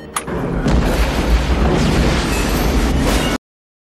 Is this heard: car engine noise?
no